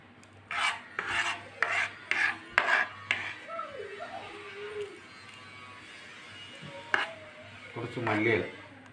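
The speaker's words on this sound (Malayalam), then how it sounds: "2 പച്ചമുളക് കൂടെ ചെറുതായിട്ടൊന്ന് അരിഞ്ഞെടുക്കാം." Green chillies being chopped with a knife, about six quick rhythmic rasping strokes on a board, followed by softer scraping and a few scattered taps while a person speaks quietly in between.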